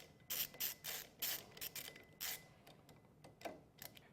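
Ratchet tightening the top handlebar clamp bolts on a Yamaha Star Bolt motorcycle: close, brisk bursts of pawl clicking in short strokes, pausing between turns and growing fainter toward the end.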